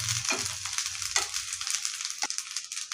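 Onion and sesame fry in a pan for a home-style Marathi egg curry, a steady close sizzle with a few soft stirring scrapes early on.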